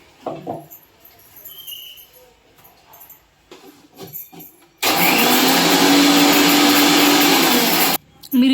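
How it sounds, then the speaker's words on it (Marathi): A kitchen mixer grinder blends sesame seeds and garlic into a chutney, starting abruptly as a loud, steady whirring roar that runs for about three seconds and then cuts off, after a stretch of quieter household sounds and brief voices. "आता तीळ लसूण हे टाकलं की ते वाटून घ्यायचं म्हणजे तिळाची पण चटणी रेडी होईल"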